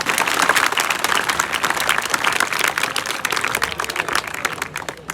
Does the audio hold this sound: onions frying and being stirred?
no